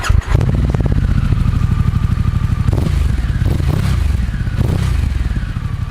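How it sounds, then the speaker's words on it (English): A 2021 Harley-Davidson Pan America adventure motorcycle engine cranks and fires up close, settling into a loud, steady idle with a few sharp blips of the throttle rising above it. "The Pan America comes to life."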